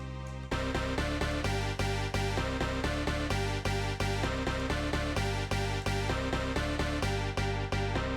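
A layered synth preset for an EDM track plays rhythmic chords, loud and steady, with punchy repeated hits and no voices.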